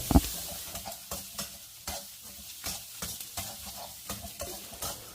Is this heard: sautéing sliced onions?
yes